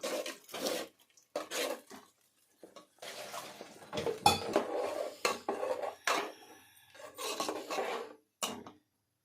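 A spoon scrapes and rubs through thick fish sambar masala in a pot, bursts of rasping strokes with short pauses between, close and fairly quiet.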